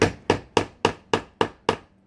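A hammer strikes a metal rivet setter to fasten a belt loop rivet on a costume, seven sharp, evenly spaced, close blows with quick decay and no talk.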